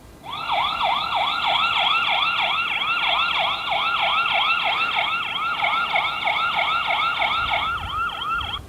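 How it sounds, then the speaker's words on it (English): A solar-powered security camera's loud electronic siren wails continuously in a rapid repeating rising yelp, steady and close, with no voices. "so it even has a little siren, probably scare people off"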